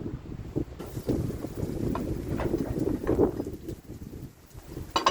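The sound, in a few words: strong wind blowing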